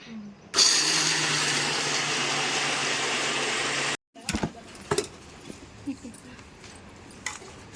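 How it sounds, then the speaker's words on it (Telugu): A household mixer grinder whirs loudly and steadily for about three and a half seconds as it grinds roasted peanuts into powder, then cuts off abruptly. Afterward, scattered clatter and handling noises follow. "పల్లీలు మిక్సీ పట్టుకోవాలి, పొడి చేసుకోవాలా పిన్ని?"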